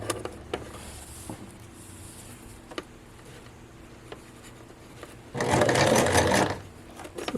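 A sewing machine stitches the hem of a formal dress, with a short back stitch and then sewing forward: soft ticks and faint mechanical noise, then about a second of steady, close whirring stitching.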